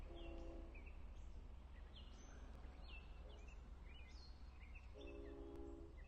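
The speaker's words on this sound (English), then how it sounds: "There's the horn for 8730 train to Speonk." A distant Long Island Rail Road train horn at Speonk sounds in a few sustained blasts over steady background rumble, with birds chirping faintly throughout.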